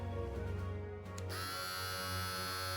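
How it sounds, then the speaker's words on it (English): Babyliss Pro Skeleton FX replica hair trimmer switched on and running, a steady close electric buzz with a dense, bright whine that lifts in pitch after a brief dip about a second in. "let's turn this on and let's make a sound check of this trimmer"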